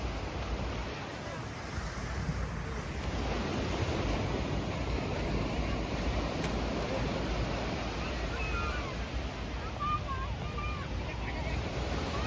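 Ocean waves wash steadily at Malpe beach in Udupi, a continuous broad surf roar mixed with wind buffeting the microphone.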